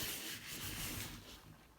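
Sheets of craft paper for paper flowers are rubbed together, giving a steady, close, dry rustling hiss that stays nearly even for about two seconds with no talking.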